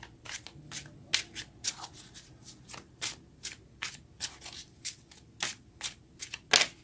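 A deck of tarot cards is shuffled in a run of crisp, rhythmic riffling bursts, close and fairly quiet, repeating about twice a second with no talking.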